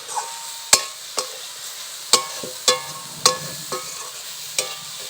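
Eggplant and kadai greens frying in a pan, village style, with a soft steady sizzle beneath sharp metallic clinks of a spatula stirring, roughly once a second, close and moderately loud.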